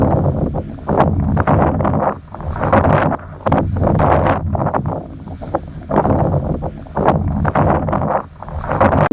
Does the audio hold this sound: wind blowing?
yes